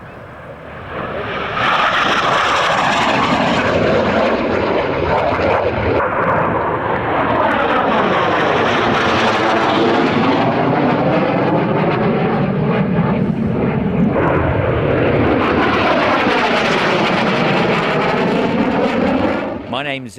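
A SEPECAT Jaguar jet flies at an airshow, its loud roaring engine sweeping past with a rising and falling tone that stays strong and close for most of the pass.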